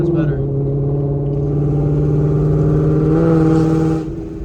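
Ford Mustang GT fitted with a Corsa exhaust and stainless long tube headers, giving a steady, deep droning engine note that swells slightly before cutting off abruptly near the end.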